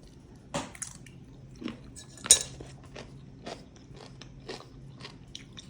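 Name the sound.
crunch of biting into a homemade fermented pickle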